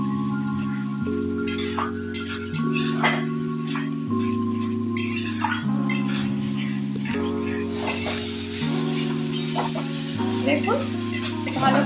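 Tomato and sugar being stir-fried in a pan for a thin Bengali fish curry, with steady scraping stirs over a continuous sizzle and occasional utensil clinks, close and fairly loud.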